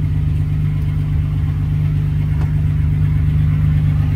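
A car engine idles steadily and loudly up close, a constant low droning hum with no revving, while the fuel pump is being checked on a project car being considered for an R32 3.2 engine swap.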